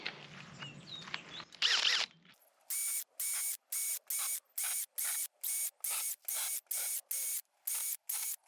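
A clamp being tightened on a wooden structure at an off-grid homestead: after a brief rustle and a short burst of handling noise, a run of regular ratcheting clicks comes in evenly spaced bursts, close and clear, with no talking.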